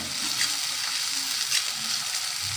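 Chopped green chili, onion and ginger frying in oil, a steady crackling sizzle with occasional stirring scrapes, close and moderately loud with no talking.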